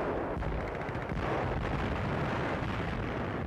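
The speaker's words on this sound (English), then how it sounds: "the second wagon erupted in a fiery explosion" A dense, roaring blast of noise with rumbling bursts fills the whole stretch, loud and continuous like an explosion and its aftermath.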